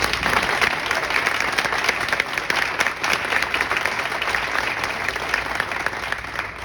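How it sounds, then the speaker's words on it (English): A large audience applauds steadily, a dense wash of clapping that holds at full strength throughout. "Let's give him a round of applause for that"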